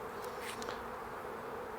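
Honeybees buzz steadily and densely inside an open hive during a spring colony inspection, a continuous close drone of many wings with no pauses and no voices.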